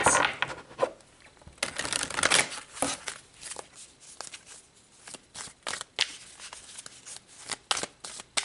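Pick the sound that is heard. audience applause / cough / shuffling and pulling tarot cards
shuffling and pulling tarot cards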